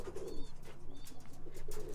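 A roller pigeon coos softly inside a breeding box, low throaty calls repeating close by over a faint background hum.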